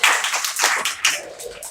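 Children at a school storytelling festival clap together in a short burst of brisk, sharp applause, close and lively, fading slightly toward the end.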